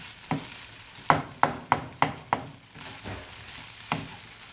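Egg and grilled chicken fried rice stir-fried in a wok with spinach, a steady sizzle broken by about eight sharp scraping and tossing strikes of the spatula, close and fairly loud, with no voices.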